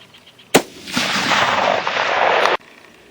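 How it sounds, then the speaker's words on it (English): A 6.5-55 Ackley rifle firing 123-grain AMAX rounds at a 500-yard target outdoors: one sharp loud report followed by a long rolling boom lasting about two seconds, then abrupt quiet. "Here goes our second volley at 500."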